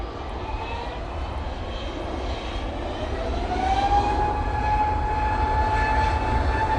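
A Ryanair airliner arrives at Manchester Airport on a windy day, its engine roar steady and moderately loud, swelling slightly midway as a rising whine emerges over the broad rumble.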